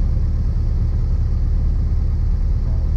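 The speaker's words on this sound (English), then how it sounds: "you just want to make sure it can stabilize and the engine doesn't shut off on you" A light aircraft's piston engine idles at about 1000 RPM during a flight lesson, a loud, steady low-pitched throb with even pulsing and no talk over it.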